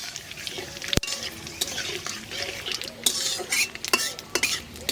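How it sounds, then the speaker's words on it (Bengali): Cumin, bay leaf, cloves, cinnamon and cardamom frying in hot oil for a fish dish: a steady soft sizzle broken by close metal clinks and scrapes of a utensil stirring in the pan. "মাছ তেলের পর দিয়ে দেবো জিরে তেজপাতা আর দেবো লং দারচিনি এলাচ"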